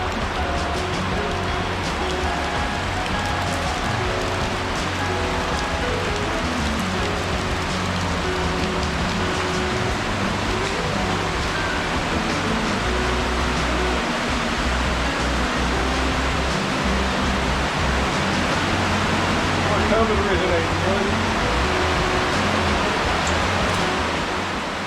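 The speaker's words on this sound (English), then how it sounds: "We watched for several minutes as the river flowed out of the ground" Underground river welling out of the ground beneath limestone in a cave, a steady dense rushing wash of water that holds even and loud from start to finish, with no voices.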